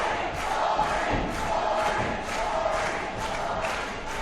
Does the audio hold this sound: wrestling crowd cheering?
yes